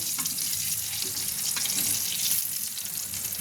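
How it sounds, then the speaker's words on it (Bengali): A chicken leg fries slowly in hot oil in a pan over low heat, giving a steady, close, continuous sizzle and crackle throughout with no talk. "আমি এটা একটু কমিয়ে ভাজছি একটু সময় নিয়ে ভাজতে হবে"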